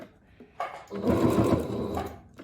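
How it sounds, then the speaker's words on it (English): A sewing machine back stitches on a pant pocket, a short close burst of stitching that rises, holds for about a second and tapers off, with no talking. "Then I'm going to back stitch again, just to keep that pocket really secure."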